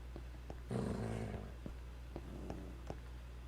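Dogs growl low in a fantasy video game, a rough snarling burst swelling up over a steady background hum, followed by faint scattered ticks and clicks.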